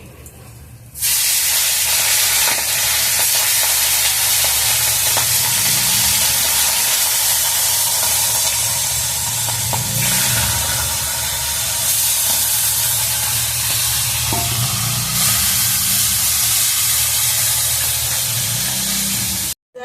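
Loud, constant sizzling of hilsa fish frying in hot oil, a dense hiss that runs for the whole stretch, with occasional soft clinks underneath.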